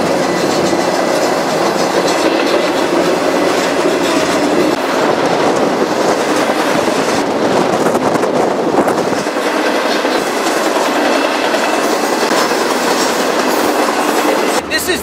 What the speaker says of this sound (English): This is the juice train.